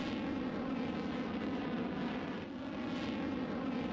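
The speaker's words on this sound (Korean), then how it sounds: "흰 연기와 불꽃을 내뿜으며 로켓이 우주를 향해 힘차게 날아올랐습니다." Hanbit-TLV space rocket lifting off, a dense continuous roar that rumbles steadily and loudly throughout, with no voices.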